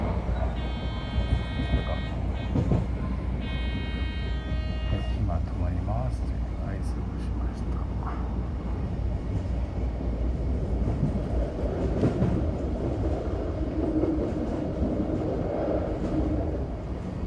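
An Odakyu 3000 series train rumbles steadily along the rails with low, continuous rolling noise, and tonal beeps sound near the start.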